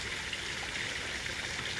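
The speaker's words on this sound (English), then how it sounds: "Water goes down the drain." Water flows down a drainage ditch into a drain, a soft continuous trickling hiss, faint and steady, with no voices.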